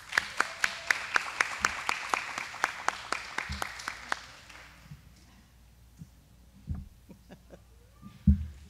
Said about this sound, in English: if you would just stand up right now and give yourselves a round of applause